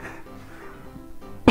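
A single sharp cough from an elderly man bursts out at the very end after a stretch of quiet room noise, close and loud.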